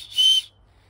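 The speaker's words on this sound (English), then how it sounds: "got a whistle on it" A small plastic whistle on a backpack chest strap is blown once, a short, shrill, close tone that stops abruptly, followed by near silence.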